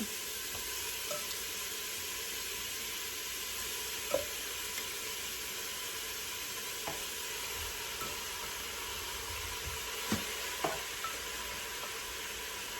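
Beef stew ingredients browning in a pot, a soft, steady sizzle with occasional faint clinks and stirring knocks, heard quietly and alone.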